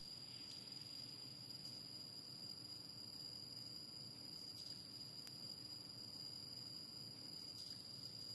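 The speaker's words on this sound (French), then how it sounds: "Ce qui est plus étonnant, c'est que des grillons se cachent par ici." Faint, steady cricket chirping echoes inside the concrete foundation of the Peloponnese bridge in Greece. A thin, continuous high trill sits over a low, constant rumble, with no voices.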